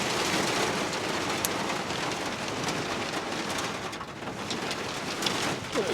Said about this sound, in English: It's 1:36 AM and the rain has started. That is loud.